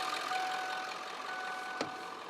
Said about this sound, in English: the vehicle started, and it's running really good